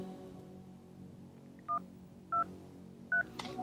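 Cell phone keypad tones on a television soundtrack: three short, evenly spaced dialing beeps against a faint background hum, followed by a soft click.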